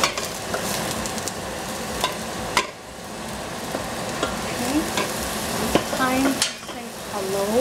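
Prawns fry in cooking oil in a pan with a steady sizzle and crackle, broken up by a few utensil clinks and stirring scrapes throughout.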